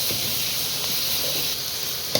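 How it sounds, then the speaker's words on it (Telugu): Green chillies fry in a hot pan with a steady, bright sizzle and hiss throughout, plus a few faint stirring scrapes and one sharp clink near the end. "పచ్చిమిరకాయలు ఫ్రై చేస్తుంది."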